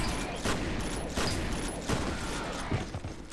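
Shotgun blasts and mechanical clatter from the video game F.E.A.R. arrive in several heavy bursts over a dense, noisy background, loud and close with no talking.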